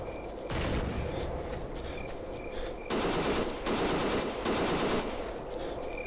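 Sustained bursts of automatic gunfire rattle continuously, swelling louder in stretches, with no talking, like a heavy firefight in a game.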